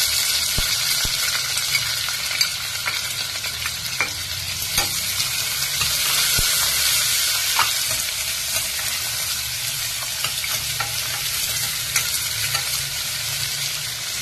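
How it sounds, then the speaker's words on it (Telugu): Onion and mustard seeds frying in hot oil, a loud continuous sizzle with steady stirring scrapes and small clicks of the spoon against the pan, no voices. "ఆవాలు వేగిన తర్వాత ఆనియన్ వేసుకుందామండి"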